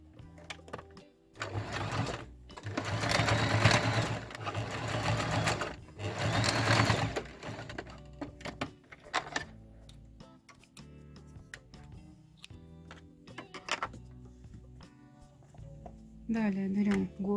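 A sewing machine stitches a bartack on the ear of a stuffed toy elephant with rapid mechanical whirring in a couple of longer runs, then shorter bursts and ticks. Someone talks in between.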